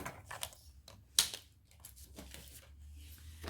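Scissors cutting patterned scrapbooking paper for a princess-themed photo album, a few quiet snips and rustles with one sharper, brighter cut near the middle, heard alone at low level in a quiet room.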